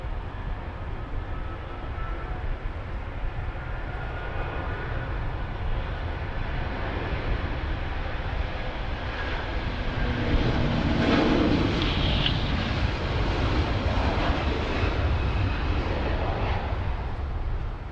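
A jet airliner landing on runway 16 right at Sydney Airport roars steadily, its engine noise swelling and growing louder toward the middle before holding, heard from a distance with no voices.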